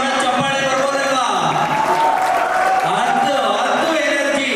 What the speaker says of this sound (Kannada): ಆದ್ರೆ ಅದಕ್ಕಿಂತ ಮುಂಚೆ ಒಂದು ಜೋರ ಚಪ್ಪಾಳೆ ಬರ್ಬೋದಲ್ವಾ?